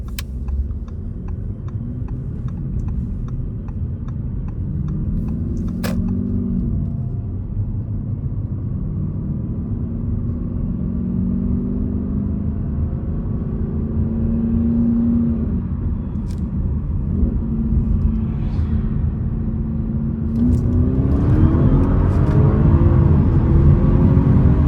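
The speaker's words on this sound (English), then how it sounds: "the TCU downshifts much more aggressively than before." An Audi S7 with a Stage 1 ECU/TCU tune drives along, its engine a deep steady rumble inside the cabin that rises in pitch and swells louder near the end as it downshifts.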